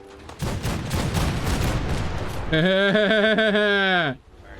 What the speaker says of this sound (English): they even let me play with the cannons when the scavengers decided to launch a surprise attack